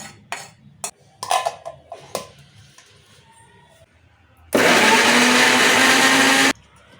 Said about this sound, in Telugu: ఇప్పుడు మిక్సీలో పేస్ట్ చేసుకున్నాం